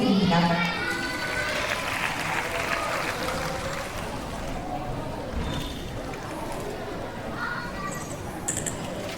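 Audience applause at an elementary school Korean speech contest, a burst of clapping from a crowd in a hall that starts after a brief announcement and fades out over several seconds.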